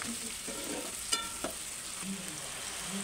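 Spicy Telangana-style boti (goat tripe) being stirred in a pan with chili powder and salt, a steady low frying sizzle with a couple of sharp spoon knocks against the pan, no voices.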